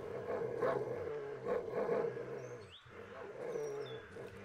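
Dogs in the horror game Darkwood, a pack growling and snarling in low rumbling waves, moderately close, with faint whines above and no talk.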